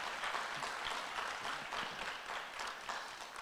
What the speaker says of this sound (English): Let's give Leslie another round of applause.